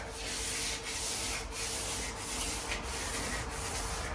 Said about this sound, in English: Sand this edge so the edge will be nice and slick.